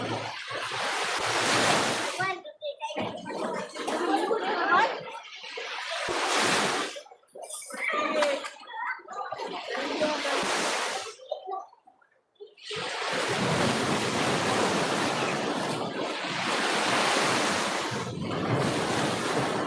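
Sea waves surging and breaking along a beach, loud broad washes of surf rising and falling in several long bursts with short quiet gaps, mixed with wind buffeting a nearby microphone.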